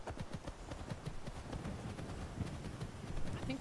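A horse gallops in Skyrim, its quick, rhythmic hoofbeats drumming close and steady in a short run with no talking.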